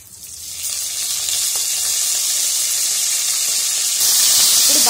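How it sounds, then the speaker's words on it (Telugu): Curry leaves and ginger pieces fry in hot oil in a pan for hot pongal, giving a loud, steady, close sizzle that swells slightly toward the end, with no talking. "ఇప్పుడు బాగా ఫ్రై చేసుకోవాలి."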